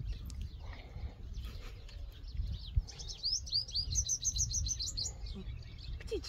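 Small birds chirp and twitter in a series of quick, bright tweets, building into a rapid run of repeated notes midway, heard at moderate distance over a low rumbling background with occasional knocks.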